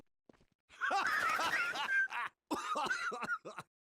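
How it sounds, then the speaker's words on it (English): Rough coughing and throat clearing, close and fairly loud, in two bursts with strained voiced groans between them. "Sorry, I was coughing."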